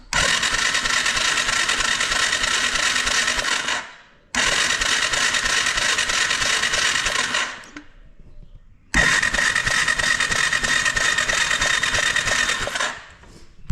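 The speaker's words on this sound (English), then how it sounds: "we're going to use the electric start and turn the engine over" A 1987 Yamaha TrailWay 200 engine is cranked by its electric starter in three long bursts of steady mechanical whirring, each lasting several seconds with short pauses between, loud and close.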